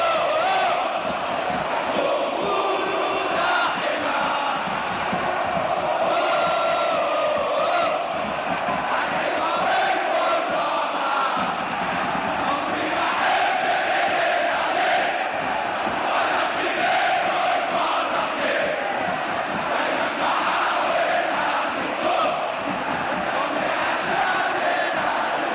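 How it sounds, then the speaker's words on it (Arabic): Al Ahly football supporters chant together in a packed Egyptian stadium, a loud, continuous roar of massed voices with rhythmic shouting that carries unbroken throughout. "في المركز الرابع هتاف جماهير الاهلي"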